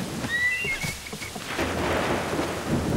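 A thunderstorm in the game Assassin's Creed III, set in rainy New York: steady rain hiss with low, rolling thunder rumbling beneath, a few faint high whistling tones early on, heard without talk.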